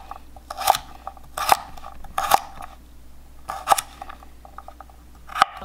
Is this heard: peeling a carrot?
yes